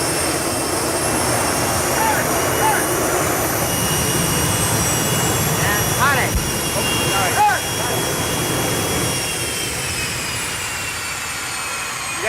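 Jet engine fired up and blowing kerosene exhaust toward a group of people outdoors, a loud steady roar and rush of wind filling the whole stretch with a few brief tonal whines rising over it and voices mixed in underneath.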